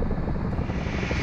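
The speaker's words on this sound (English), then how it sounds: "the rescue helicopter will come for you" Rescue helicopter in the video game Ring of Elysium, its rotor making a dense, continuous thudding rumble that stays close and steady throughout with no voices.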